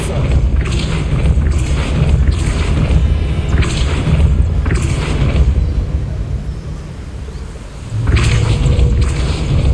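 Depulso force-push spell effect in the video game Hogwarts Legacy, a loud booming whoosh of magic bursts repeating in surges over continuous game rumble, with a fresh blast near the end.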